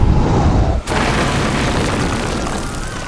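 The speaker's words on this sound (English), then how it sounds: "The distant burst of thunder, then the whistling of cannon fire." Cannon fire in a naval battle: a deep, loud boom at the start, then a sharp burst followed by a rumbling, noisy roar that slowly tails off.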